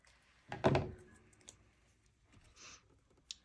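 Small paper pieces trimmed for a vintage farmhouse mini album, with a few close cutting clicks and a dull thunk, then faint rustles and one short scrape, quiet and sparse.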